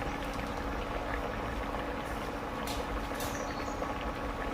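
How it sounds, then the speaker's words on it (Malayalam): A pot of tapioca curry boils hard on the stove, giving a steady, close bubbling hiss that continues unbroken with no voices. "ഇപ്പം എന്തേ നല്ലവണ്ണം തിളച്ച് കയറി ഏകദേശം ഒരു പകുതി വേവായിട്ടുണ്ട്"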